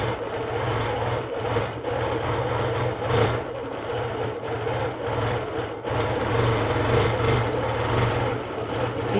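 A stitch-regulated sewing machine hums steadily for free-motion quilting. Its rapid needle chatter continues nonstop at close range, with only slight shifts in intensity and no talking.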